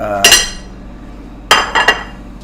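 Metal spoons clinking against dishes in a kitchen while tiramisu is being made, a few sharp, bright, close clatters separated by quiet pauses.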